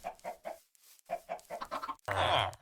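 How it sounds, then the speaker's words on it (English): Minecraft chickens clucking in a quick series of short, bright bursts with brief pauses, ending in a louder, denser flurry of squawking. "these chickens didn't want to cooperate"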